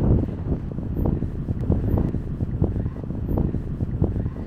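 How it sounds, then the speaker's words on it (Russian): Evening wind blowing through the streets of Munich, a low gusty buffeting that pulses irregularly against the microphone, steady and moderately loud with no voices. "Я сейчас вот чувствую, ветер дует"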